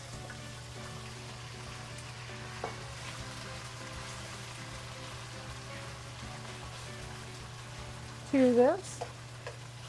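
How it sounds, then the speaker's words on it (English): Chicken fries in hot peanut oil in a wok with a quiet, steady sizzle running throughout. Near the end a voice speaks briefly over the sizzle. "I'm going to add a couple tablespoons of peanut oil to my wok. And as you can tell, my wok is hot."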